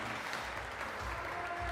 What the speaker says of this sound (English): And the crowd is going crazy.